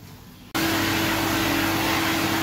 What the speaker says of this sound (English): is tolerating the blow dryer pretty well. Makes a hell of a racket.